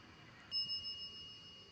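A single bell rings sharply once, a bright ringing tone that decays over about a second in a quiet outdoor setting at a Civil War battlefield in Virginia.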